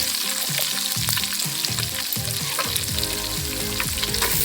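Curry leaves frying in hot oil in a pan in a village kitchen, a loud continuous crackling sizzle with dense spitting pops and occasional stirring scrapes throughout, no voices.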